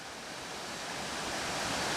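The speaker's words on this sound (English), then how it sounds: "So there is the waterfalls." Waterfalls at Pictured Rocks give a continuous, even rush of falling water, a broad steady roar that builds slightly louder over two seconds.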